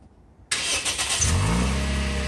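A car engine cranks and catches after being jump-started with a RoyPow PowerUrus J22 1,600A jump starter, a sudden loud burst that settles into a steady, close idle with no talk.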